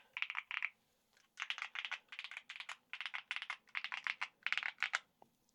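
Quick bursts of crisp, clicky typing on a keyboard fitted with advanced tactile switches, close and clear, in short runs of keystrokes separated by brief pauses.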